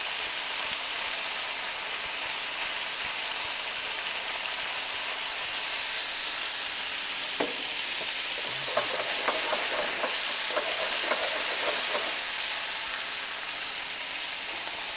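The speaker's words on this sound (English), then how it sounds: "the meat's already starting to brown up on one side, so we'll just give that a toss around" Beef pieces sizzle steadily in a hot pan for a beef and mushroom madras, with a broad frying hiss throughout and a brief run of scraping, clattering stirs and tosses partway through.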